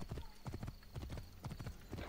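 Horse hooves clip-clop steadily through a stretch of Assassin's Creed Origins gameplay, a quick rhythmic patter of hoofbeats heard close, with faint game ambience under it.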